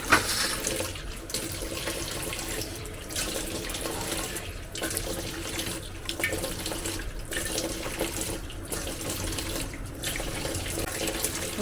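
Water poured onto potting soil in a pot for crafting, a steady splashing, running rush lasting the whole stretch with faint periodic dips, close and fairly loud with no voices.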